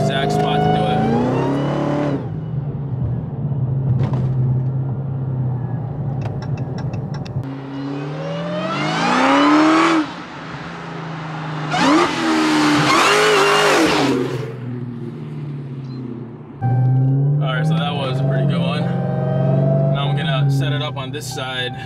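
A supercharged Chrysler 300 Redeye drives past on a straight road in repeated loud flybys, its engine rising to a roar and whine as it nears and fading as it goes, with a voice talking between passes.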